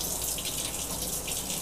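Tap water runs steadily from a faucet as it warms up, a continuous close hiss and splash with no breaks or voices.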